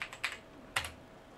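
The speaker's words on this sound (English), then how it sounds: "We'll agree, and we have to type in our user password." A few quick keystrokes on a computer keyboard as a user password is entered for a macOS Sequoia 15.5 update, three soft clicks close by in an otherwise quiet room.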